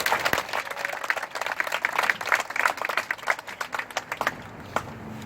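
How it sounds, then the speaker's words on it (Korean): Applause from a crowd at a teachers' union protest rally against unfair disciplinary action at a school foundation, a burst of many hands clapping that thins out and fades toward the end. "힘찬 박수 부탁드립니다."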